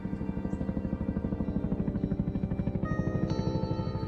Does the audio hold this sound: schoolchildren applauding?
no